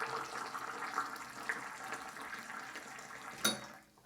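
Hot water at 98 degrees runs from a Quantum 4-in-1 boiling-water kitchen tap, a steady close hiss and splash that stops abruptly near the end with a brief clatter.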